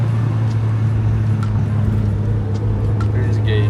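A friend's new Mitsubishi EVO idles with a steady, loud low engine drone and a slight uneven flutter, running continuously throughout with faint background sounds.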